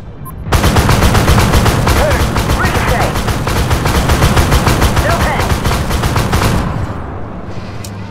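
Rapid automatic fire from the AMX-13 DCA anti-aircraft gun in World of Tanks, a loud unbroken burst of closely spaced shots lasting about six seconds before cutting off abruptly.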